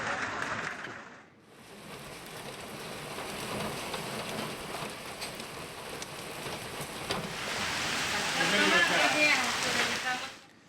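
Steady heavy rain with hail patters hard on surfaces and grows louder toward the end, with a stormy, gusty wash of noise, during a hailstorm with strong winds in Lonar taluka, Buldhana.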